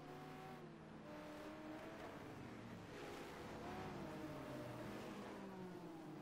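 A train of GT1 race cars in a sim racing game at Mexico City drones past, overlapping engine notes rising and falling in a continuous, moderately loud roar.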